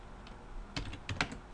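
Keys clacking on a computer keyboard during a programming lesson, a few scattered bursts of close, crisp keystrokes with short pauses between them.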